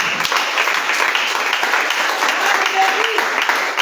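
A church congregation claps and cheers in a loud, dense burst of applause that lasts a few seconds, with voices calling out within the crowd.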